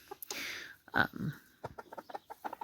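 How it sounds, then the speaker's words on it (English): Backyard chickens, both roosters and hens, cluck in a garden with short, irregular calls close by and a few louder squawks scattered among them. "There are 6 roosters here."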